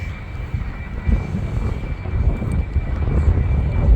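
Jet2 Boeing 757 airliner at Manchester Airport, its engines giving a broad, steady rumbling roar that swells gradually as the aircraft passes nearby, with a faint high whine above, and no speech.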